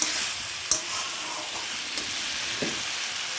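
Food stirred in a hot cooking pan while boiled eggs cook, a steady sizzling hiss with a few scraping knocks of the spoon against the pan, no voices.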